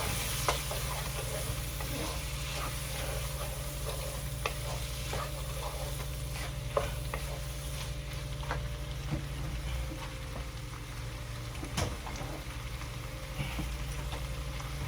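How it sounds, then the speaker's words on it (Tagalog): Butter or margarine sizzling in a pan with crispy chicken liver sisig, a steady close frying hiss with light stirring clicks and scrapes, no voices. "Tapos lagyan natin ng butter o margarine."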